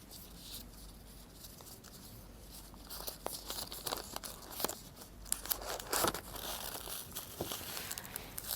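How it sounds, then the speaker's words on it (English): Oil paper wrapped around a fuel injector valve assembly is handled up close, giving a run of crinkling and rustling paper sounds with a few sharper crackles, moderately loud and steady, with no voices. "Inside is the oil paper to wrap it up."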